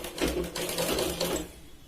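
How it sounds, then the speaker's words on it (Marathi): A sewing machine stitching the katori seam of a blouse, a short, close, steady mechanical whir lasting about a second and a half before stopping. "अगदी कडेने इथे शिलाई लावतोय आपण"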